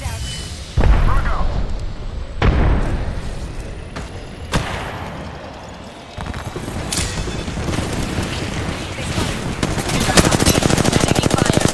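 Gunfire and blasts in the Apex Legends battle-royale game: sharp, loud shots with a few heavy impacts early on, building into rapid automatic fire toward the end, with game voices underneath.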